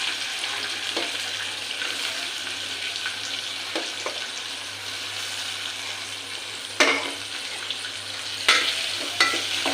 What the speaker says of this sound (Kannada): ಈರುಳ್ಳಿ, ಟೊಮೊಟೊ ಒಟ್ಟಿಗೆ ಸೇರಿಸ್ಕೊಳ್ತಾ ಇದ್ದೀನಿ.